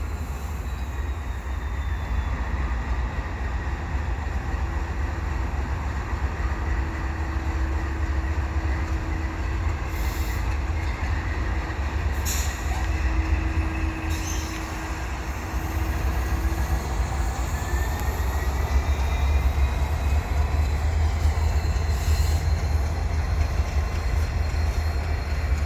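A CN eastbound freight train rolls past at Dorval with a steady, continuous rumble and faint wheel squeals. It sounds fairly close, and no one speaks.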